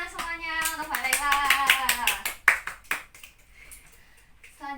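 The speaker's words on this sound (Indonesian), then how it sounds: "Ayo tepuk tangan semuanya untuk Mbak Laila." Classroom students clapping together during a civics lesson, a short burst of fairly close group claps that fades out, with a teacher's voice over the start.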